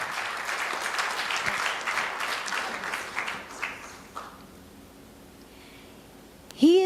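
Audience applause at a Rotary club installation ceremony, a dense round of clapping from a large room that tapers off and fades to near silence.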